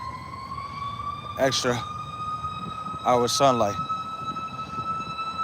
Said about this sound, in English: Right now what you're hearing is a siren.